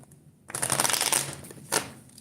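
Tarot cards are shuffled close up in a dense riffling burst followed by a short second flick, heard alone.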